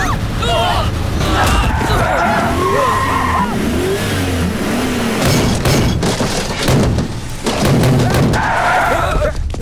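A car accelerates hard and roars away during a tense abduction scene in a Hindi-dubbed action film, engine revving loudly and close, with thuds and shouting voices mixed over a dramatic score.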